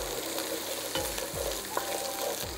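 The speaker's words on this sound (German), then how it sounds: "Die Knoblauch-Ingwer-Paste, die brate ich jetzt auch nochmals gemeinsam mit den Zwiebeln hier an." Garlic-ginger paste and onions fry together in oil for a chicken curry, a steady close sizzle under brisk stirring scrapes and soft knocks of the utensil, with no talking.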